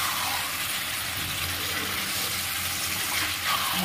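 Hot water hits frying fish curry in a pan with a continuous broad hissing sizzle, steady and close throughout.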